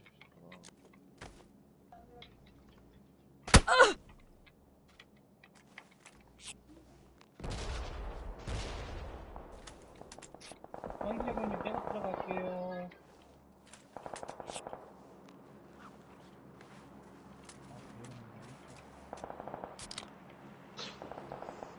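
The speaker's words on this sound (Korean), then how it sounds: "옆에 총소리 계속 나는데." Bursts of rapid gunfire crackle at moderate distance in PUBG on PlayStation, with quieter shots and scattered footsteps in between.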